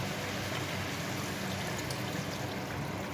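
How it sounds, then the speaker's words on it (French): White wine poured into a hot pan of morel mushrooms to deglaze them, a steady rushing hiss and trickle that stays even for a few seconds, close up and without talk. "je vais venir rajouter du vin blanc"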